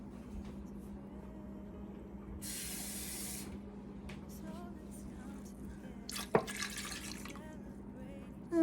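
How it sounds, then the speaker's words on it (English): A touch of water poured over pork in a cooking pot, a soft hissing splash in two short bursts over a low steady background hum, with no talk. "I'm gonna add just a touch of water."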